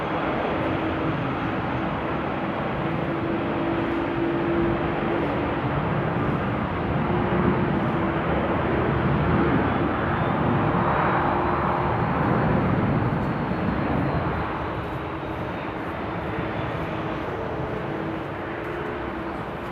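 A plane takes off at Amsterdam Airport after Storm Henk, heard as a broad, continuous engine roar from a distance that holds steady for many seconds and eases slightly near the end.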